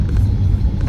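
A car drives along while an engine rumbles low and steady from inside the cabin, a continuous muffled drone with no voices.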